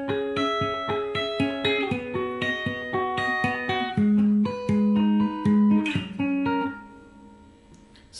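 A guitar plays the third sequence of the intro of a song, a bright run of short plucked notes in a steady pattern, then a few longer ringing notes before fading into a pause.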